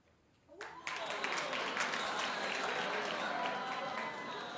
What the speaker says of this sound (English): Stop trying to encourage people to clap.